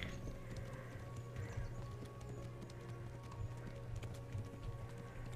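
Horse hooves clip-clop steadily in the medieval video game Kingdom Come, a continuous run of close, even hoofbeats over a constant ambient backdrop, with no voices.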